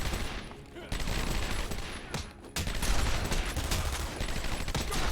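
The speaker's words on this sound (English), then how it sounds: "Stop shooting me. So impolite. Oh my god, everyone's got a bloody machine gun!" Machine gun fire from enemies in Batman: Arkham Asylum, sustained bursts of rapid gunshots that run almost nonstop, broken by brief short gaps, at moderate loudness.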